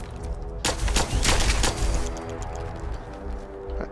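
Gunfire in Fallout 4: a rapid burst of several loud, close shots in quick succession, then a fading echo and quieter tail.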